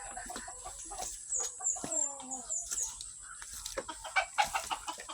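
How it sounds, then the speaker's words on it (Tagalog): Chickens clucking and squawking nearby in a busy, irregular chorus among farm animals including ducks, with a high steady insect-like whine running underneath. "mga manok"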